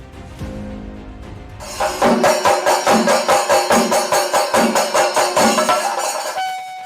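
The Ernakulam–Bengaluru Vande Bharat train rumbles past close by on its inaugural run, its wheels clacking in a steady rhythm over the rail joints before the noise fades and a horn tone lingers.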